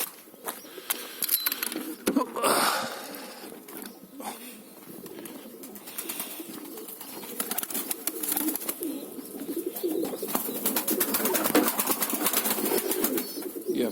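Pigeons in a loft coo repeatedly, with bursts of wing flapping and fluttering close by, the soft calls continuing over steady background rustling.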